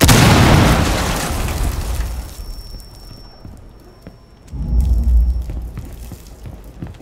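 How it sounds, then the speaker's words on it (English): A grenade blast in the tactical shooter Rainbow Six Siege: a loud, booming explosion opens and rumbles away over about two seconds. A second heavy thump follows a few seconds later, then fades into low game ambience. "I'm gonna nade this wire."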